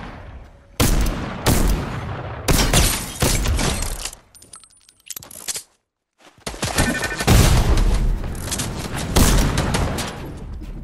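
Gunfire from the Fortnite video game: loud, close bursts of rapid automatic shots in several rattling volleys, with a brief quiet gap in the middle before the firing resumes.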